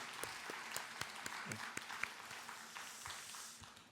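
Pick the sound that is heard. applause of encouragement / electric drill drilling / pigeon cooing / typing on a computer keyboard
applause of encouragement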